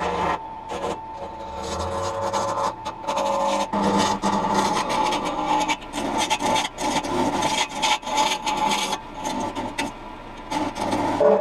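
An acrylic bottle opener spins on a lathe, giving a steady rubbing, rasping whir with intermittent scraping bursts as the cut engages, continuous and fairly close throughout.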